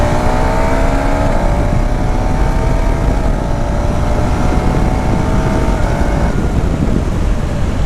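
A 2026 KTM Duke 390 single-cylinder motorcycle engine pulls hard under acceleration on a mountain road, its rising drone steady and loud over wind rush, then shifting pitch near the end.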